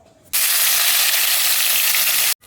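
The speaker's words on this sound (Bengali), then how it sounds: "চিংড়ি মাছগুলো ভেজে নিচ্ছি।" Prawns drop into hot oil and set off a loud, sudden hiss of frying that holds steady for about two seconds, then cuts off abruptly, close and with no talk.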